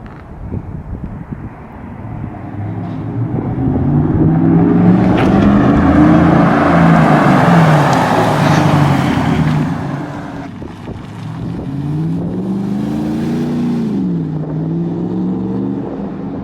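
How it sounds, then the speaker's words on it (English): A Chevrolet Silverado 5.3 V8 pickup with a Borla S-Type exhaust revs up into a loud, rising throaty growl, holds, eases off, then climbs again, close by with some wind noise. "when you stomp on it, it has an aggressive growl, and it sounds like a frickin' race truck"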